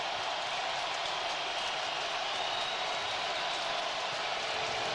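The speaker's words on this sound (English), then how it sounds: "here comes the crowd. They're loud. They're into it." A large NFL stadium crowd at a Washington Commanders vs Detroit Lions game roars steadily, a broad wash of cheering and noise with no breaks, loud and sustained throughout.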